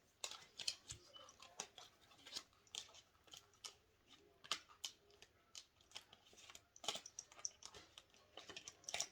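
Tarot cards being gathered and shuffled, faint dry clicks and riffling snaps in an uneven, quick rhythm close by.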